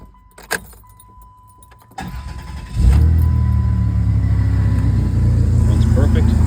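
A car with a muffler leak cold starts: a couple of clicks and key sounds, a short crank, then the engine catches and settles into a loud, steady, raspy idle close by.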